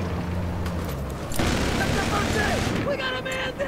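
Enemy machine gun fire rattles across a large Battlefield multiplayer fight on the Dawnbreaker map, dense bursts mixed with booming blasts, loud and continuous with battle noise swelling halfway through.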